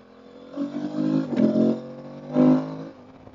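Aprilia Tuareg 660 motorcycle ridden briskly on a narrow twisty road, heard as a moderate engine note that swells and rolls off in two short surges of revving.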